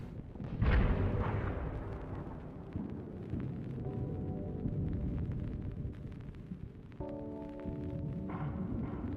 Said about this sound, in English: That sounds like a fusion of the Ravager, the Spartan laser, the fuel rod gun, the battle rifle.